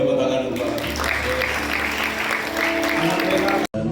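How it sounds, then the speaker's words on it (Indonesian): A room full of people claps steadily for a few seconds, dense and continuous, before cutting off abruptly. "kita beri tepuk tangan"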